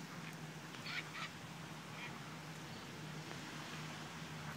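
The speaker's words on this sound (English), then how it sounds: "The ducks. The ducks." Ducks quack a few times over steady outdoor background noise, with short, moderately distant calls coming in small bursts and no talking.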